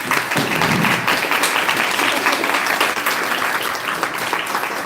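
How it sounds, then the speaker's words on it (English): Workshop audience applauding, a dense steady burst of many hands clapping that holds strong from start to finish in an indoor room. "Can we get a round of applause, please?"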